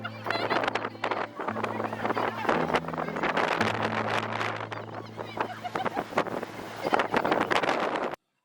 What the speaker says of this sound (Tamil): பயங்கரமாக மணல் புயல் அடிச்சிருச்சு. பயங்கர காற்று, நிற்கவே முடியல.